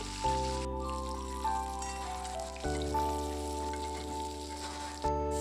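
Katla fish fry in hot mustard oil with a steady, rain-like sizzle and crackle, partly masked by louder background music throughout.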